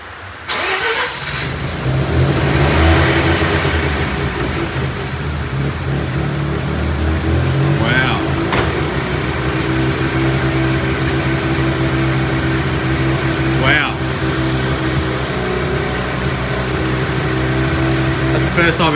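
A BMW E46 M3 engine, a barn find, starts and runs with a loud, steady, pulsing idle right up close for the whole stretch, and a few brief sharp blips stand out above it.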